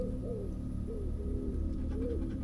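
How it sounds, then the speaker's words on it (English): Pigeon-like birds coo repeatedly in a steady rhythm, soft rising-and-falling calls close by over a constant low outdoor rumble, with no voices. "Just birds, mate, just birds."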